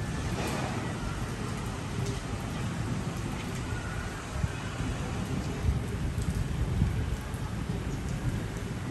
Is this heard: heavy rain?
yes